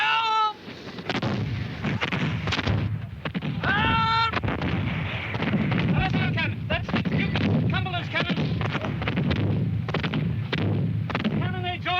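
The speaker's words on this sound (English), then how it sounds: "Cannonades all around me." Cannon and artillery fire booms repeatedly across a smoky 1746 Culloden battlefield, heavy irregular blasts near and far under shouted voices and cries throughout.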